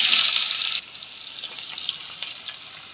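Bay leaf, cumin, chili and onion go into hot oil for a chicken kasha curry, giving a loud initial sizzle that drops suddenly to a quieter, crackling fry.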